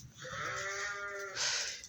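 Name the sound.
sheep bleating on a farm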